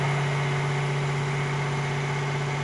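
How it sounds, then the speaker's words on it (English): A Mercedes-AMG ONE hybrid hypercar's combustion engine runs at a steady idle, a continuous droning hum with a strong low tone and no voices over it. "And therefore you have to press on this icon here. So this is a charge button, then the combustion engine will start."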